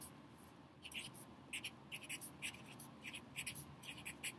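Pen writing on paper while a worked problem is drawn out, with short scratchy strokes in quick bursts over faint room noise and no talking.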